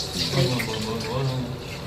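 Water running from a tap to fill a vessel for cooking chicken ghee rice, a steady close rushing splash that continues evenly throughout.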